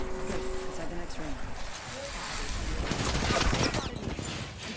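Bursts of gunfire ring out in a sci-fi shooter game, dense crackling shots that build in intensity toward the middle and end, with a steady hum and other game noises underneath and no talking over it.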